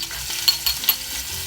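Garlic, onion and ginger sautéing in a pan over a charcoal fire for pork monggo, a soft steady sizzle with a few sharp scrapes of a utensil against the pan.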